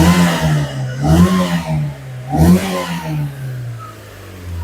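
A car engine revs up twice in quick succession, each surge climbing then falling back to a steady idle, close and loud.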